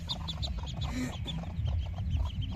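Soft, repeated clucking from a hen, close by, over a low rumbling background with faint scattered chirps.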